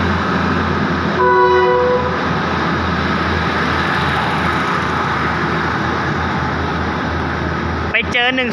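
A local train rumbles steadily out of Chum Saeng station with a loud, continuous roar, a brief horn blast early on and a sharp squeal near the end.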